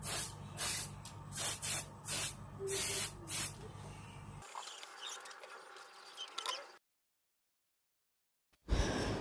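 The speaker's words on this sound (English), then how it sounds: "what you're going to see next is just my painting of a second coat of paint on the shoulder pad" An aerosol spray can hisses in short repeated bursts while a second coat of paint goes onto a small plastic Gunpla shoulder pad. A softer, steadier airbrush-like hiss follows before the sound cuts to silence.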